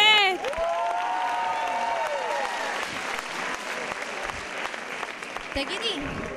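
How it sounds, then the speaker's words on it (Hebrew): A crowd at a 2024 high school graduation party in Tiberias applauds the graduating class with sustained, dense clapping and scattered cheers. A singing voice briefly rises over the applause at the start. "מחיאות כפיים למחזור כ"ט."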